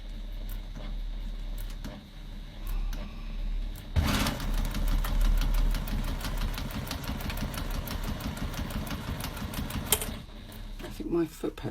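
A sewing machine stitching fabric suddenly runs fast when its foot pedal catches under the table, a dense rapid mechanical clatter that starts abruptly and continues loudly for several seconds before stopping.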